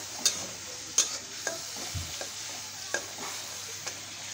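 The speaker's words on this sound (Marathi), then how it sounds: "पूर्ण सारखं कंटिन्यू हलवत त्यातला कच्चेपणा पूर्ण काढायचा।" A spice mixture stirred and fried in oil until it releases its oil: a soft background sizzle broken by repeated scraping strokes of a spoon in the pan, spaced roughly every half second, with no voices.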